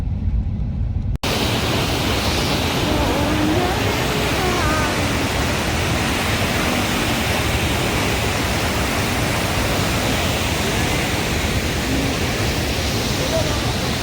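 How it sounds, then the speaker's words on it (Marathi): A waterfall in Shillong gives a steady, loud, broadband rush of falling water that fills the whole stretch after a brief quieter opening, with no distinct voices. "ते बघा अजून एक वॉटरफॉल."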